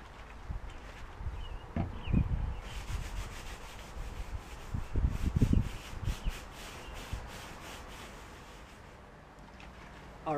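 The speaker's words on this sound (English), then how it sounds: "Now I'm gonna take some isopropyl alcohol, wipe this all down so we have a nice clean surface." Cloth with isopropyl alcohol wiping down roughed-up plexiglass, close irregular rubbing and squeaky swipes in short bursts, fairly quiet, with a few soft knocks between strokes.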